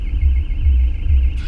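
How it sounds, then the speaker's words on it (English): A car alarm sounds somewhere near a parked 2007 Ford Transit SportVan on a street. It comes as a steady, pulsing wail that continues through the whole moment, fairly loud, with no talking. "And there's an alarm going off."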